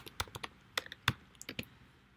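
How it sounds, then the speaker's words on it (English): Someone types on a computer keyboard in short, quiet bursts of a few key clicks, with irregular gaps between the taps. "type whatever you want to type"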